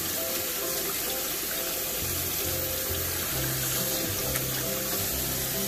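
Peeled yams rinsed under a running kitchen tap, a steady, close gush of water into the sink with occasional shifts as the pieces are moved, continuous and without speech.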